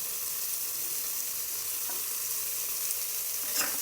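Rice pulao frying in a pan with salt added, kept in motion by stirring: a steady close sizzle with a couple of faint scraping strokes of the spoon, no voices.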